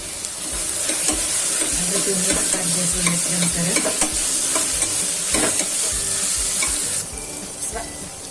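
Chopped ridge gourd cooks in a pan for a Gujarati vegetable dish, sizzling and hissing steadily up close while a spoon stirs it with occasional scraping taps.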